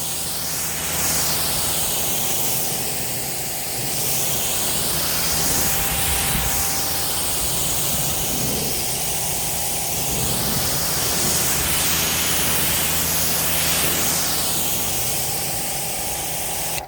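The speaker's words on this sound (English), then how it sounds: "let's go ahead and start rinsing the first foam applied to the vehicle" A pressure-washer spray rinsing foam off a 2024 Mercedes-AMG GLE63s SUV, a steady loud hiss with gently sweeping tone as the jet moves across the bodywork, continuous for the whole stretch.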